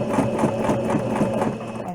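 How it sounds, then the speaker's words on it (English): Sewing machine stitching a seam on a fabric mask, a steady close mechanical whir with rapid rhythmic needle pulses running throughout. "So what I'm going to do is I'm going to sew a little."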